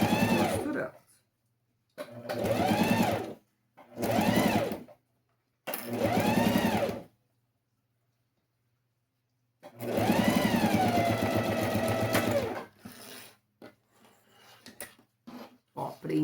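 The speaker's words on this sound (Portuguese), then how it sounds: "Vamos costurar aqui agora o forro. Alinhando e costurando." A sewing machine stitches the lining of a glasses case in short whirring bursts separated by pauses, ending in one longer run, with brief light handling noises afterward.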